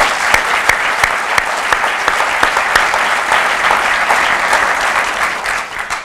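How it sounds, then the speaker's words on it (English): Sustained applause from an audience at a police department awards ceremony, steady and fairly loud dense clapping with a few sharper claps poking through, holding evenly throughout. "So let's give them another round of applause."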